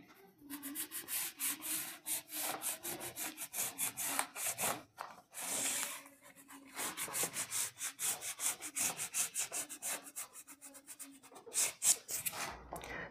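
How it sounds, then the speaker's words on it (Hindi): Writing is rubbed off a board in quick, repeated scrubbing strokes, a dry, rhythmic swishing that pauses briefly partway through and then resumes, close and fairly quiet, with no talk over it. "यहाँ पर मैं इसको थोड़ा रब कर देता हूँ नीचे से"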